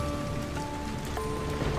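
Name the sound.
light rain falling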